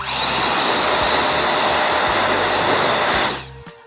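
A Jufinx Turbo Fan cordless electric leaf blower runs at full power close by, a loud steady high-pitched whoosh and whine that holds for about three seconds and then cuts off as the motor spins down.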